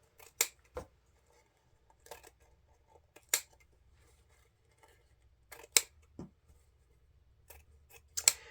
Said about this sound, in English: grab your scissors and angle trim your ends